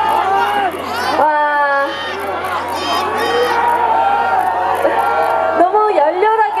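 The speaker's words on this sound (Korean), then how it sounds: "너무 열렬하게 환호를 해주셔서" Festival audience at a university campus concert cheering and shouting loudly, a dense continuous roar of voices with high squeals, while a performer's amplified voice cuts in over it.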